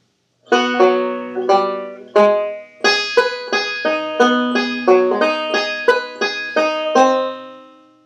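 A banjo phrase of plucked notes, opening with a few quick pickup notes before settling into a steady rolling run of bright, ringing picks.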